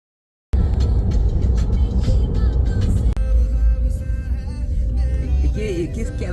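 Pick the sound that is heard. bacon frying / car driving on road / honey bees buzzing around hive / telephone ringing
car driving on road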